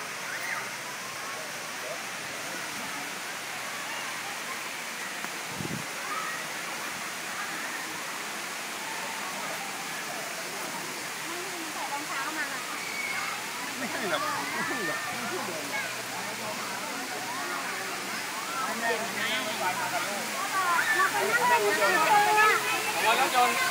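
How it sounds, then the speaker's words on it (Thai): Thai waterfall in a forest setting, a steady loud broadband rush of falling water that swells slightly toward the end, with brief talking in the background. "นี่ว่าน้ำตก"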